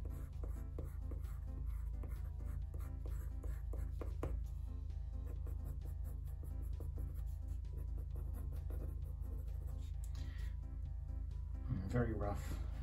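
A pen scratching out a rough doodle on paper, with faint, busy drawing strokes running through the whole stretch beneath a steady low hum, and a voice speaking toward the end.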